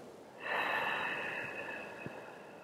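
A single slow, breathy exhale through the mouth during a vinyasa yoga session, close and soft, rising quickly and then tapering gently over about two seconds.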